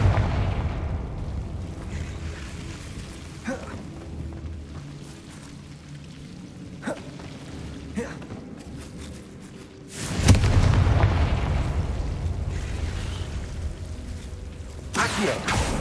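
A Confringo blasting curse erupts in Hogwarts Legacy, a sudden loud booming burst that rolls into a sustained rumbling roar, following quieter scattered crackles and thuds of game action.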